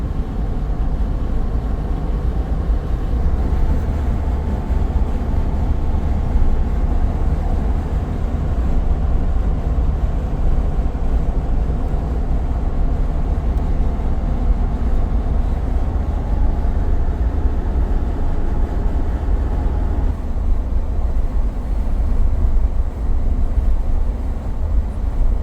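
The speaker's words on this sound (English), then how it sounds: "there's a big old string of BNSF hoppers here" A long BNSF freight train of hopper cars rolls past steadily, a continuous low rumble and clatter of wheels holding close and loud throughout.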